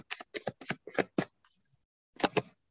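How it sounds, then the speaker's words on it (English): A deck of tarot cards is shuffled in quick riffling bursts, about six crisp close-up rustles in a row, a pause with faint handling, then two more bursts. "one more shuffle and I'll take it from the top"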